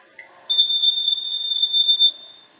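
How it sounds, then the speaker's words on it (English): A smoke detector gives one loud, steady, high-pitched electronic tone that holds for about two seconds before cutting off. "a smoke detector, when it detects smoke, makes a loud sound"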